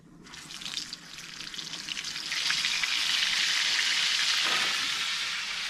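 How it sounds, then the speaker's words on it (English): Burgers sizzle in hot bacon grease, a bright crackling hiss that swells after a few seconds and then holds steady and close. "now we will toss our burgers in. Toss a little bit of seasoning in there with our bacon grease"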